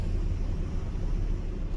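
Road traffic moves along a city boulevard in windy weather before a hurricane: a low, steady engine and tyre rumble at moderate distance, with no talking.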